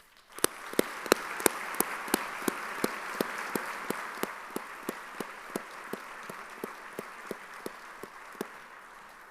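An audience at Princeton Alumni Day applauds as Austin Davis comes to the stage, with a few sharp individual claps standing out at a steady beat above a broad, moderate wash of clapping.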